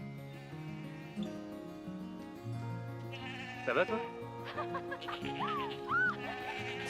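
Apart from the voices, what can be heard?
goats bleating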